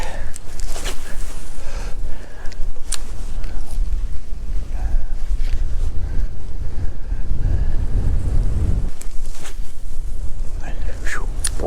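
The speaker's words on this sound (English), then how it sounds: "That wind, man, I tell you, cuts right through." Strong wind buffets the microphone while fishing from a boat on open water in freezing conditions, a constant roaring rush with gusts and water slapping, faint speech mixed in.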